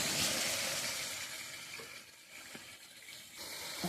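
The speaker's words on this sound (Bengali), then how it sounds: "এখন আমি মশলাটাকে ভালো করে কষিয়ে নেব" Spice paste (masala) for potato curry sizzles in a pan while being stirred, a steady hiss that fades slightly midway and swells again toward the end, with a few soft scraping touches and no voices.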